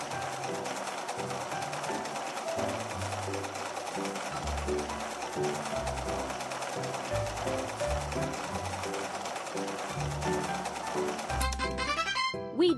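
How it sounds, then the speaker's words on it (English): A sewing machine stitching clothes in a girls' dress-up video game runs in a steady, loud mechanical whir with pulsing bursts over a continuous music bed, ending in a brief chiming flourish. "Now let's sew the pieces together."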